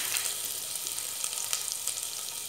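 Grated ginger hits cumin seeds already frying in hot oil over a low flame, giving a steady close hiss and crackle of sizzling, with no talking.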